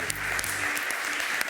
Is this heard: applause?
yes